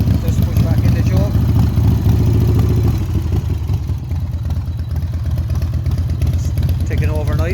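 Harley Davidson FXDWG Wide Glide motorcycle engine, freshly serviced, idling steadily after the choke is pushed in, a loud continuous low rumble close by with mechanical clatter.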